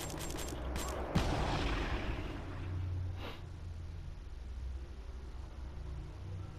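A sharp gunshot bursts out in Call of Duty: Black Ops 3, opening with a loud crack and a ringing decay, then fading into a low rumble of game ambience. A few fainter shots come before it, and no one speaks.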